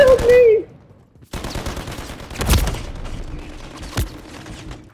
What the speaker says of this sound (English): He shot me through the wall, bro